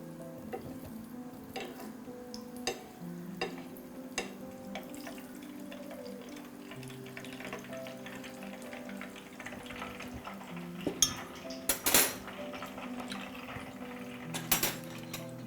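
Oil with a spoonful of margarine heats in a pan on the stove before cauliflower is fried, a soft low sizzle and bubbling under a steady background hum, broken by occasional sharp clinks and taps of utensils against the pan.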